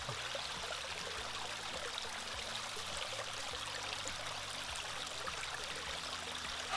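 Water streams steadily over a sluice mat, washing gold-bearing gravel during prospecting, a continuous even trickling and rushing flow with no voices.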